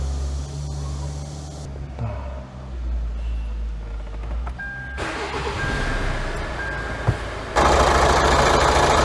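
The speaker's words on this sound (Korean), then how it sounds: "시동을 한번, 걸어 보겠습니다" A Kia Sportage R engine cranks and starts after an oil change, then settles into a steady mid-pitched idle, with a louder burst of engine noise near the end.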